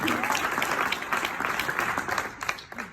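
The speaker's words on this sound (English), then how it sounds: "applause." A crowd applauds during the introduction of a Black Panther Party interview, giving dense, continuous clapping that sounds close and full, with some voices faintly mixed in.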